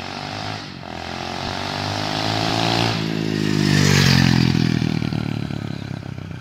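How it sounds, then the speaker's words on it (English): An SSR 125cc pit bike makes a high-speed pass at wide open throttle, its loud buzzing engine rising in pitch as it approaches, peaking as it goes by, then dropping away, with no talking. "One good high speed pass, wide open throttle."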